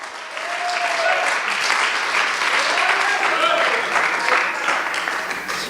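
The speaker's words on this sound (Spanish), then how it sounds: "Dele fuerte el aplauso al Señor" Sustained applause from a church congregation, dense clapping filling the whole stretch with a few faint voices and whoops mixed in.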